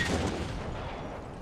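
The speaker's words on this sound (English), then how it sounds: "We are receiving counter battery fire here." Counter-battery artillery fire in the World War I strategy game The Great War 6.0, a loud boom that decays into a rumbling, fading tail lasting over a second, with no talk.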